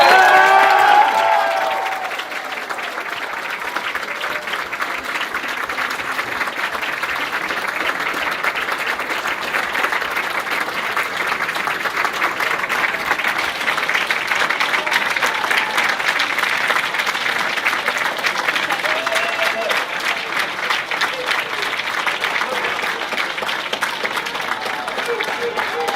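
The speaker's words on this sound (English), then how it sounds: "I'd like to hear a very rousing round of applause for Congressman" A crowd at a Democratic congressional district convention breaks into long, loud applause with scattered cheers, a steady roar of clapping that holds for nearly half a minute after a speaker's closing words.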